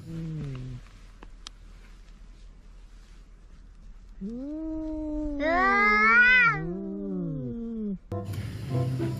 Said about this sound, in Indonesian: Ini hewan kucing.